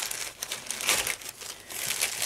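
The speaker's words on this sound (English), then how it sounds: "I'm going to just cut this bag here." A plastic bag around a Pearl hammer is cut open and handled, producing loud, continuous close-up crinkling with bursts of rustling throughout.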